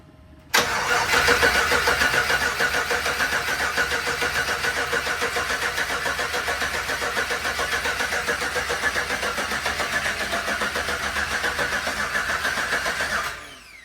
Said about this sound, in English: Not starting it, just cranking it.